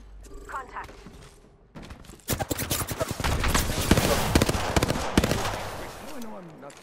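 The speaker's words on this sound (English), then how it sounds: "I am taking fire." Gunfire in the Apex Legends video game, a dense rapid burst of automatic shots and echoing impacts that rises after a quieter opening, loud and close, mixed with other game sounds.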